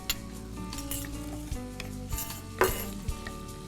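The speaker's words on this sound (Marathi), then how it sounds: "बटरवरती हो, कांदा घालायचा आहे आता" Onion hitting melted butter in a pan for a mushroom peas masala, with a steady close sizzle broken by sharp spoon-and-pan clinks and stirring scrapes, no talk.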